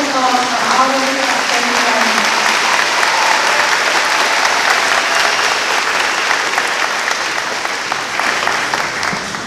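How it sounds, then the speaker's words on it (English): A graduating class is applauded at a 2026 graduation ceremony, a loud, dense, continuous wash of clapping from a large audience. A few voices rise briefly at the start, and the ovation then holds steady throughout. "Please join me in a round of applause for all of you."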